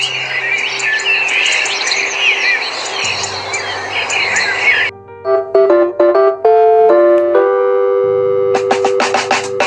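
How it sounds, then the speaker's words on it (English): Dense chirping and trilling bird calls fill the first half, then give way to steady tonal melodic notes, with bright chirps returning at the end. "you can hear the birds singing their jingles in many"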